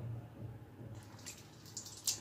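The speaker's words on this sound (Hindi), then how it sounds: "सबसे पहले हम ऐड कर लेते हैं थोड़ा सा इसमें पानी" Water is poured into a mixing bowl for puri dough, with soft splashing and dripping that grows into bright trickles and a sharp final splash, alone without talk.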